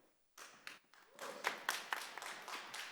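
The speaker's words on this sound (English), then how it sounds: "Please refrain from the clapping." An audience at a city commission meeting starts clapping after a public comment, scattered claps growing into a fuller round of applause from a modest crowd in the room.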